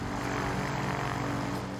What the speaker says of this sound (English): This is a Cy Marchetti SF-260, and it is an Italian military trainer.